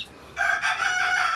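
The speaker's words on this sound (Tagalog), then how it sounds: "Malalaking manok ito." Large month-old chickens cluck loudly and close by, one drawn-out call breaking in after a brief quiet moment.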